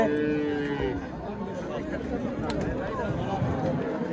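Cattle low and moo at a busy Friday livestock market in Pastdargom, Samarkand, with calves among them, the calls sounding close amid steady crowd chatter and trading voices throughout.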